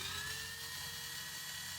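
An electric drill drills out a snapped bolt, stepping up through progressively larger bits after center-punching, with a steady high-pitched whine that holds at an even speed for about two seconds, close and alone.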